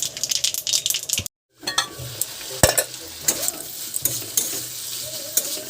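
Small native bitter gourds frying in hot oil crackle and sizzle steadily up close while a utensil stirs and scrapes the pan, with a brief silent gap early on.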